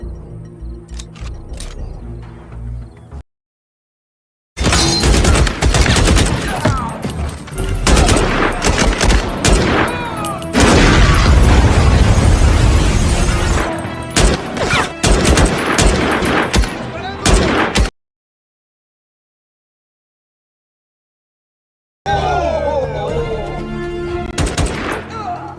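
Gunfire in a movie fight scene: loud rapid bursts of automatic shots and dense clatter amid action noise, broken by two sudden silences, with a tense soundtrack at the start and end.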